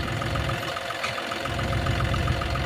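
A John Deere tractor engine runs steadily at a moderate, even idle-like drone with a rhythmic knock, close and continuous throughout, with no talking.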